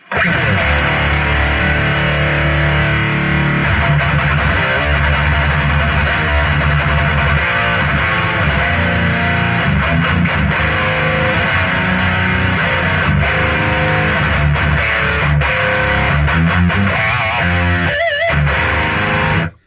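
Heavily distorted electric guitar through a Boss MK3 amp head on its brown setting chugs and rings out continuously, loud and thick with saturated crunch, ending in a brief cutoff.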